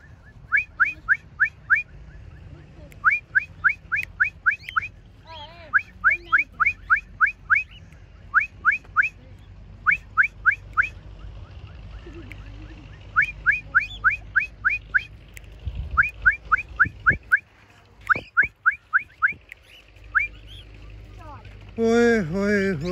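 Repeated bursts of shrill human whistling in quick trills to call cockatiel parrots, loud and close, with low background rumble and brief voices between bursts.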